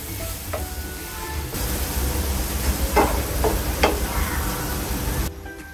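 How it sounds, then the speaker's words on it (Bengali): Shrimp frying in a pan for a Bengali bottle gourd curry, a steady loud sizzle with a few sharp spatula scrapes and stirs throughout, ending abruptly. "চিংড়ি মাছগুলোকে আমি 2 মিনিটের মতো ভেজে নেব।"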